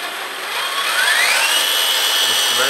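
A LESU 1/14 Benz 6x6 RC dumper truck with Kabolite cabin, running in high gear with its smoke effect on, gives a loud continuous electric motor whine that rises steadily in pitch as it speeds up.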